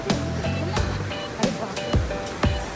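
Kuntala Waterfalls pours in a steady broad rush of falling water, loud and continuous, broken by a few dull thumps from wind or handling.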